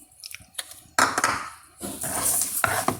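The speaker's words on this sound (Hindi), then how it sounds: "अच्छे तरीके से मिक्स करना है।" Sugar being mixed into khoya in a pan with a spoon: soft scraping and thick squelching strokes, with a few light knocks early, then two longer grinding sweeps close by.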